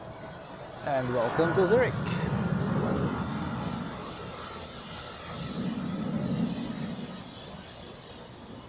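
An airliner inbound from Edinburgh touches down at Zurich Airport, its engines a broad, distant roar that swells and fades beneath a voice, with a second rumble rising later.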